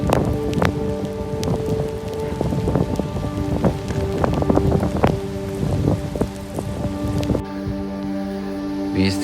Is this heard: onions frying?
no